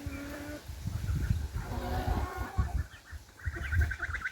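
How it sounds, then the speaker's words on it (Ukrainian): Several young roosters crow one after another at close range, with clucking hens and other farmyard birds calling around them. "Вийшло шість ось таких красивих півнів."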